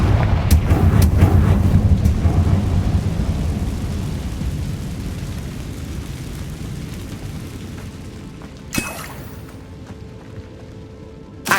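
Confringo blasting spell explosion in the Hogwarts Legacy video game, a heavy rumbling boom that slowly fades, followed later by a sharp single crack.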